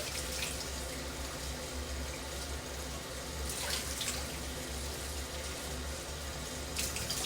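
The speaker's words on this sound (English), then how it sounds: "So I'm washing the meat." Tap water runs steadily into a sink while raw meat is washed for cooking spinach, a continuous close hiss with slight splashing variations and no talking.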